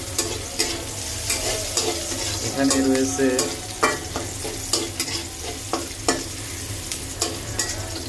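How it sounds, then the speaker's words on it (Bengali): Onions frying in oil for radish greens, with a continuous sizzle and repeated stirring scrapes and taps of a spatula in the pan, and a brief voice speaking over it. "এখানে শাক ভাজির জন্য পেঁয়াজ ভাজা হচ্ছে।"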